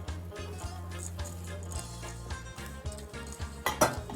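A spoon stirs the kelle dessert mixture with raisins in a pot, producing repeated soft scraping and clinking against the metal in an uneven rhythm, with a faint sizzle underneath and a sharper clank near the end.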